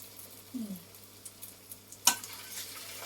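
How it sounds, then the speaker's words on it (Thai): Food frying in hot oil as it is pushed around with a spatula, a low steady sizzle with a brief scrape and one sharp clack of the utensil against the pan partway through. "เอามันลงไปทอด แล้วเราก็เขี่ยเขี่ย"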